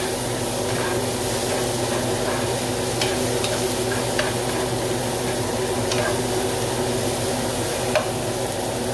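Garlic fries in a pan with tomato for spaghetti chorizo, a loud, steady sizzle with a broad hiss running unbroken throughout, dotted with faint scrapes and clicks of stirring.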